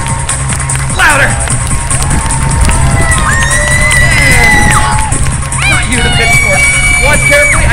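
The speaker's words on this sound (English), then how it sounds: "The louder you clap, the cooler it will get." A street crowd in London watches a bed-of-nails act, cheering, whooping and clapping in a loud, sustained burst, with excited shouts and babble over the noise.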